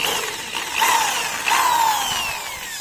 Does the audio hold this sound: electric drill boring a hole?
yes